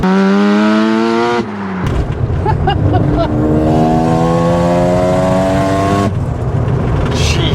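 A Mazda FD RX7 rotary engine revs loud and close, its rising harmonic whine broken by sharp popping brap bursts, then climbing again in a long steady pull before cutting off.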